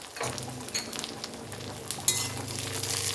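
Two cloves of crushed garlic sauté in a pan while making sambar, giving a soft sizzle with spoon stirring and scraping, close and fairly quiet, a sharp clink partway through.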